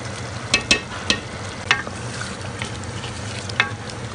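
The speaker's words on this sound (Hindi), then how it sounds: "के अभी मैं भुनाई कर रही हूँ" Ginger garlic paste fries with spices in a pot for aloo gosht, giving a steady close sizzle broken by several sharp scrapes and clinks of stirring.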